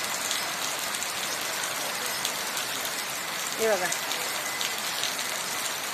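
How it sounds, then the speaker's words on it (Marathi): Heavy monsoon rain pours in a steady, dense wash of broadband hiss, loud and unbroken throughout, while someone speaks briefly over it. "हे बघा कसा मुसळधार पाऊस पडतोय बघा"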